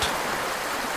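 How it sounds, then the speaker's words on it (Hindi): Continuous rushing babble of flowing water, fairly close and steady, with no voices. "बहता हुआ पानी"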